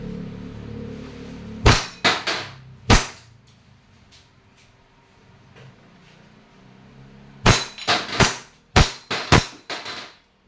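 A WE airsoft 1911 Type B pistol fires sharp, close snapping shots: a burst of three, a pause with faint handling noise, then a rapid string of about six more cracks, with no voices.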